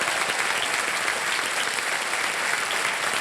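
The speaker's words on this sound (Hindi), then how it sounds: "जोरदार तालियां बज जाए इनके लिए" A large studio audience on a television quiz show breaks into loud, continuous applause, a thick steady roar of clapping with no break.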